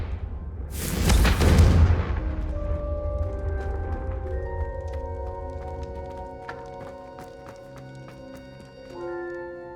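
A Confringo fire spell in Hogwarts Legacy blasts candelabras with one loud, booming burst, followed by ringing, fading tones that linger, then a soft thump near the end.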